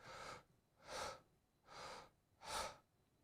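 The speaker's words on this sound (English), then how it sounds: "So basically hyperventilating, not breathing out completely. So in, deeper, out, short." Rapid, forceful breaths come close to the mic in a hyperventilation exercise: four deep audible inhales and short exhales in an even, quick rhythm about every three quarters of a second, with no speech.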